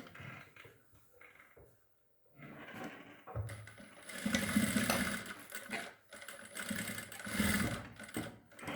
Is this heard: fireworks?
no